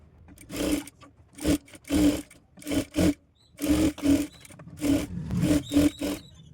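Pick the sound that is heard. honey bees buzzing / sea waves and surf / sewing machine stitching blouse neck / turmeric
sewing machine stitching blouse neck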